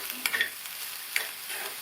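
Amaranth greens are stirred in a hot pan, a soft, fairly quiet sizzle broken by a few quick scrapes and clinks of the spoon against the metal, with no speech.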